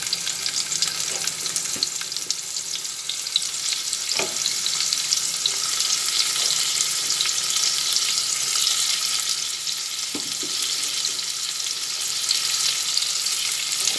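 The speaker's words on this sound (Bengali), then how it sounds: "তেলের মধ্যে উচ্ছেগুলো দিয়ে উচ্ছেগুলোকে আমি ভেজে নিচ্ছি" Steady, loud sizzling of bitter gourd frying in hot oil, with a few soft clinks of a utensil against the pan.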